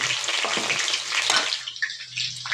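Chopped garlic dropped into caramelized sugar in a pan over a wood-fired stove, giving a loud burst of watery sizzling that quickly dies down to fainter crackles and spits.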